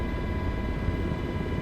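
Helicopter hovering in Microsoft Flight Simulator 2024, a steady droning rotor and engine whine holding constant and fairly loud throughout, with no talk over it.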